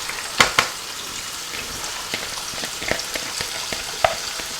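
Potatoes and cauliflower stirred into masala in a pan give a steady low sizzle, with a few sharp clinks and scrapes of a spoon against the pan standing out near the start and scattered through.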